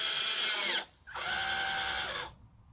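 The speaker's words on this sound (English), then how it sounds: "I'm just going to drill all the way down to the bottom close enough" A power drill bores into a plastic interior panel of a Lexus GX460, giving two close, high whining bursts with a short pause between them, the second ending abruptly.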